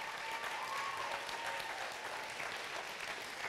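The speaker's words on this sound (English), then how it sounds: "Give them a round of applause." An audience applauds steadily for volunteers being recognized, a continuous wash of many hands clapping at moderate volume from start to finish.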